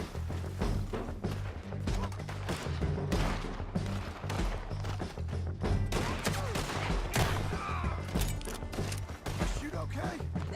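Gunfire in Red Dead Redemption 2 from an Old West firefight: a rapid string of loud shots and thuds crackles almost continuously, with voices talking over the shooting.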